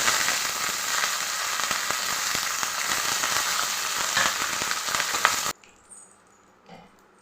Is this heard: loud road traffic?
no